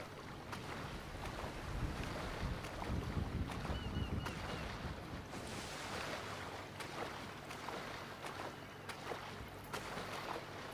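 A jet ski rides across the ocean in the GTA V video game, its engine drone and splashing water churning steadily with wind rushing over everything, continuous and fairly quiet with no voices.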